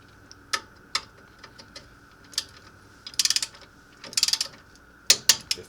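Click-type torque wrench snapping several times while tightening CV axle bolts on a 1989 Nissan D21 Hardbody pickup, with sharp metallic clicks in small bursts and single snaps, near and loud over a quiet workshop background.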